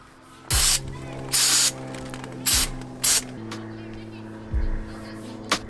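Short bursts of spray clean the filter screen from a Haldex AWD unit on a 2015 Audi S3, five or six loud hissing blasts of about half a second each, separated by pauses over a low hum.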